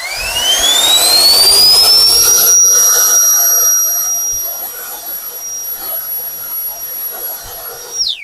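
A Procraft PB18 20V cordless leaf blower spins up with a loud rising whine that settles into a steady high-pitched tone, then cuts off sharply at the end.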